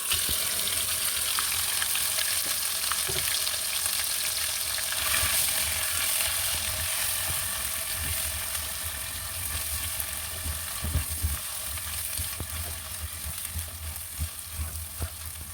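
Marinated chicken stirred into hot spices and oil in a pan for a restaurant-style green Hyderabadi chicken fry, giving a steady close sizzle with occasional scraping stir strokes and no voices.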